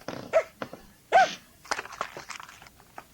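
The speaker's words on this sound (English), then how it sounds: "You hear the dogs? They're here. Lots of them." Dogs bark in a few short, sharp bursts near the microphone, with soft shuffling and scuffing sounds between the barks.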